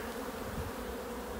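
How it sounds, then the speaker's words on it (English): Honey bees buzz steadily and densely throughout during a May hive inspection with loads of brood and yellow pollen, a continuous close swarm hum with no talk. "More bees everywhere."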